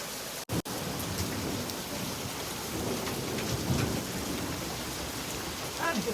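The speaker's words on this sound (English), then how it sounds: "I hate fucking thunderstorms, but man, look at all the rain." A heavy thunderstorm pours steady, dense rain all around, a constant loud hiss of water falling on surfaces, with a low rumble of thunder swelling briefly in the middle.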